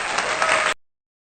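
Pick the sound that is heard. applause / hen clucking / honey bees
applause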